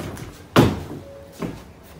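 A locked door in a video game takes a heavy impact as it is breached, a single loud thud followed by a fainter knock about a second later, with no talking over it.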